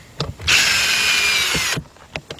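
A power screwdriver whirs in one steady burst of a little over a second to remove Phillips screws on a 2000 Isuzu Rodeo 3.2 during shifter cable work, loud and close, with faint clicks and knocks before and after.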